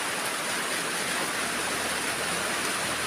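Heavy rain pouring down, a dense, loud, steady roar of falling water and splashing that fills the whole stretch without a break, with no voices heard.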